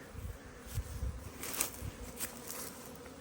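Honey bees buzzing around strong hive colonies overflowing their boxes, a soft continuous hum broken by individual bees flying close past.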